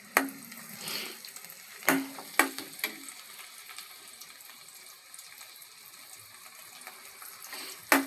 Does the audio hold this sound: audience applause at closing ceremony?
no